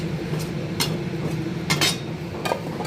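Cloves and a dried chilli stirred in a pan, with a few sharp clinks and scrapes of a spoon against the metal over a low background hum, close and distinct, no talking.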